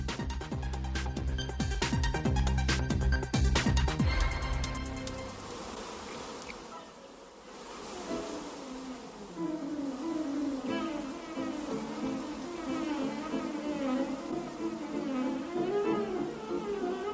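Bees buzzing around their hive or nest, a steady droning hum that continues throughout, loud and close, with no speech.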